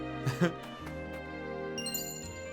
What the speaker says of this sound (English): Another HP recovery, very nice.